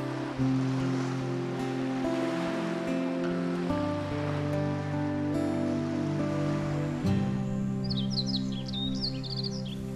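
Ocean waves wash steadily onto a sandy beach in a continuous broad roar, with sustained low tones running under it and faint bird chirps briefly appearing near the end.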